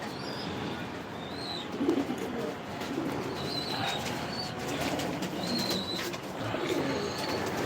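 Racing pigeons in a loft coo softly and repeatedly over a steady low background hum, with occasional faint wing flaps and chirps; the sound is moderately distant.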